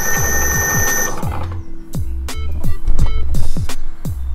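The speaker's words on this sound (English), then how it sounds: "press one of these forward or reverse buttons and you can see the motor spin" Electric mountain board motor controlled by a VESC, spun forward on the bench in short repeated bursts, each a rising electric whine that winds down, with clicks between, loud and close.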